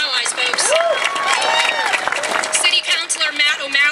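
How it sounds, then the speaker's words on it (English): Crowd at a 2013 marriage equality rally in City Hall Square applauding and cheering loudly outdoors, with whoops and excited voices rising over steady clapping throughout. "Let's give him a round of applause."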